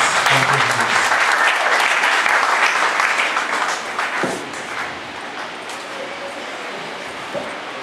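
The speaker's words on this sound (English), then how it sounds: "Oh, clap your hands." Audience clapping hands at an honorary doctorate ceremony in Ghana, a loud burst of crowd applause with some voices mixed in that dies down after about four seconds, leaving quieter room noise and scattered sounds.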